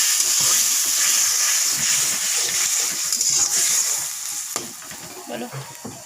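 Salt, turmeric and chilli powder fry in a hot pan for an egg curry, giving a loud, continuous sizzle with soft stirring scrapes throughout.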